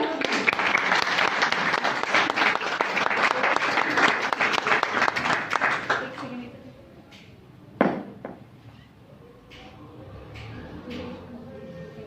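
An audience at a women's Qur'an recitation competition applauds the first-place participant, a dense burst of clapping for about six seconds that then thins out into scattered claps, a louder thump and quiet room noise.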